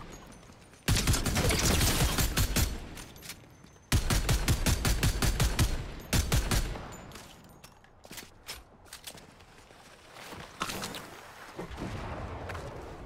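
Heavy, rapid bursts of automatic gunfire during a Fortnite build fight, with loud sustained volleys early on, then shorter scattered shots and more distant crackling toward the end, with no talk.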